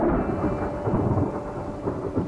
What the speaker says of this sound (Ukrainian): Слухай, здається, дощ починається.